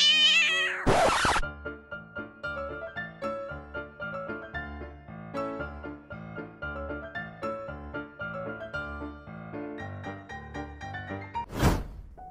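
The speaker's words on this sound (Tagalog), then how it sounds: "Ito ang pinakamabait at pinaka-cute na pusa sa buong mundo." A cat meows over a steady backing of music with a rhythmic beat, the calls fairly faint and mixed into the track rather than standing alone.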